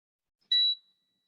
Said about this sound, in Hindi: मल्टीमीटर को मैंने बीप मोड में डाल दिया